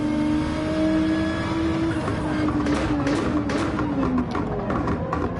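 A race car engine in Gran Turismo 7 revs up and eases off under braking, a steady buzzing drone with pitch rising and dropping, then choppier throttle blips, loud and continuous.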